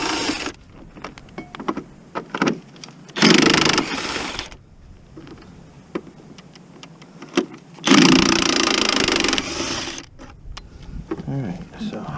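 A DeWalt cordless drill backs screws out of a Hummer H2 during a battery replacement, with two loud sustained whirring bursts of a few seconds each and quieter clicks and handling noise between them.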